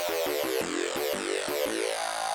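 Wavetable synth bass with high pass filtering and LFO-driven movement, played as a run of short, rhythmic pulsing notes whose timbre shifts and sweeps, heard alone and up close.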